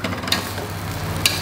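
Eggplant and spring onion tipped into a hot frying pan, giving a brief soft sizzle with two sharp clatters of utensil against pan, close and alone without talk.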